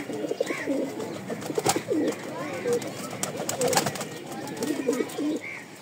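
Female pigeons cooing while bathing, a repeated throaty cooing close by, with splashing and someone talking over the birds.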